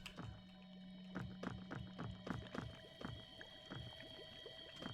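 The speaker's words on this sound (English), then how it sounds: "I hear a bubbling." Liquid bubbling in the video game Eldritch: a rapid train of soft gurgling pops over a steady low hum, faint and alone.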